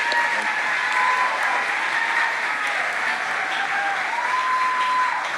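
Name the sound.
audience applause for debate candidates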